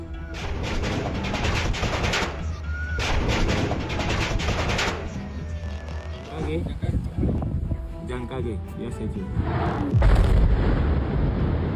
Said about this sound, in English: This is how the symphony of underwater explosions sounds.